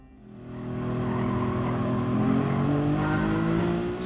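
An N600 race car engine in Gran Turismo Sport climbs in a smooth, steady rising whine as the car accelerates, holding loud and close for a few seconds.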